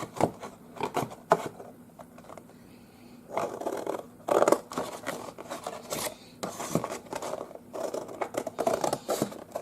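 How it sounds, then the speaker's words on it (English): Scissors cut a centre strip from a piece of material in bursts of close snipping and scraping, separated by brief pauses and light handling noise. "Let me just cut that centre strip out."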